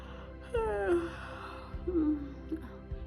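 A voice imitates a bear yawning in a narrated Turkish children's bedtime story, giving a drawn-out falling moan followed by a shorter second groan, close and alone.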